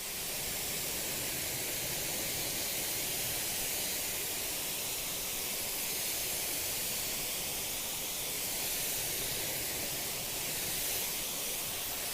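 Water spray from a hose rinsing snow foam off a car, a steady loud hiss that runs continuously with no talk over it.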